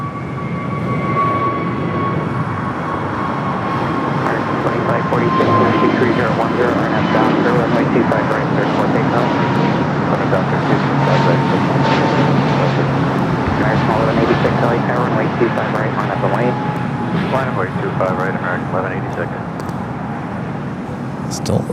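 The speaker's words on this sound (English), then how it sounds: "Next takeoff is heading to Dallas-Fort Worth, Texas." An Airbus A320neo in Puerto Rican tail livery takes off from LAX for Dallas-Fort Worth. A sustained, loud jet roar runs throughout, with a slowly falling whine and faint voices underneath.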